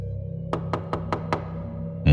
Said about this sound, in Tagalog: Muling kumatok ang kung sino sa labas